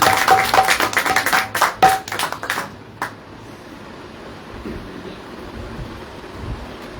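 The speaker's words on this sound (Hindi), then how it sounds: "वाह, तालियां बजाने वाले।" Audience clapping at a midday Hindi religious gathering in Delhi during rain, a dense burst of applause for about three seconds that fades into a soft, steady wash of rain or room noise.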